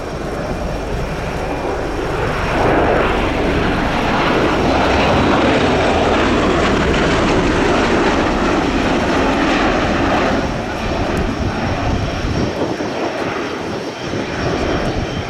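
A USAF Bell Boeing CV-22B Osprey tiltrotor flies at a demonstration, its huge 11.6-metre proprotors producing a loud, sustained, throbbing roar with engine drone that holds steady and close throughout, with no talking.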